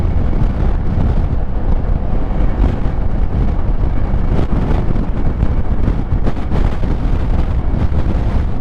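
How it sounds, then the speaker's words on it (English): Loud, constant buffeting of wind gusting across a microphone on a moving Kymco AK 550 motorcycle, a rumbling blast that swamps everything else for the whole stretch. "It's a huge gust of wind."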